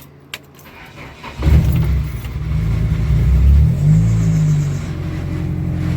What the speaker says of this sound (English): That's how you turn this car on.